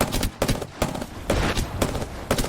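Gunfire rattles in the Apex Legends video game as a battle-royale ranked fight plays out, with loud, dense bursts of rapid shots repeating in clusters and no talk over them.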